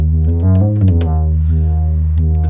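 A Cavagnolo Exagone XM 64 synthesizer oscillator set to a triangle wave holds a steady, loud tone with shifting pitched notes playing above it, with no talk.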